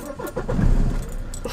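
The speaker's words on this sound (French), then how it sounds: "Déjà, démarre ta voiture, déjà." A car engine starting up, with keys jangling first, then a short low cranking rumble that settles, heard close from inside the car.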